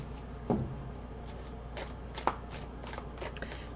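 Tarot cards being shuffled by hand, crisp riffling bursts and soft card slaps repeating at close range in a quiet room, no talking.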